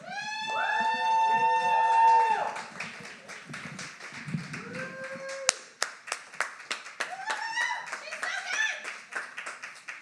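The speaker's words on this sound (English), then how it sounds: "Please give a huge round of applause to Andi." An audience at a Dayton poetry slam applauds poet Andi with a scattered run of hand claps in the second half, after a stretch of voices and vocal sounds.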